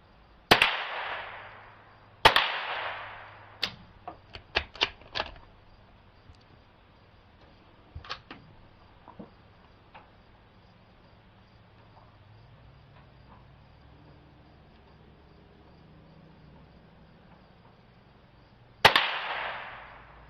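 A Marlin Glenfield Model 20 rifle fires CCI Mini-Mag 36 grain hollow point rounds, giving three loud, sharp, close cracks with short echoing tails, two near the start and one at the end. Smaller clicks and faint rustling fill the quiet gap between them.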